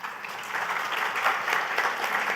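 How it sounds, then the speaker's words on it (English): Conference audience at a cultural and creative industries event in Grenada breaking into a short burst of steady clapping that swells slightly, heard alone without speech. "I didn't expect to get a clap for that"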